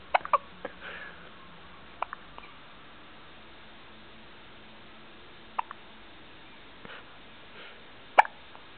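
A baby hiccups in short, sharp little bursts, spaced irregularly across a quiet room with faint background hiss.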